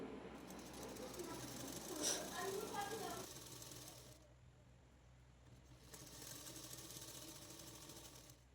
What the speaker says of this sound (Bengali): দেওয়ার পরে একদম ধার দিয়ে সেলাইটা করে নেব